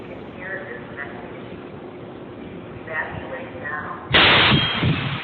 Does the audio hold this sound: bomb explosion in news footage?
yes